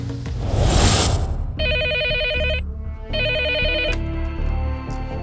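A phone rings with two bursts of bright trilling electronic tones, close and loud, following a brief rush of noise.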